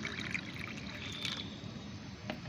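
Plain water poured into homemade liquid organic fertilizer to dilute it, a steady close trickle and splash that runs throughout at low level, with no talk.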